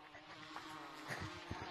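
Bees buzz softly and steadily in a VR video game, a faint continuous insect drone with a few brief bumps, no speech over it.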